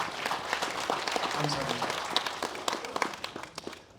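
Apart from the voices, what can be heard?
audience applause welcoming a guest speaker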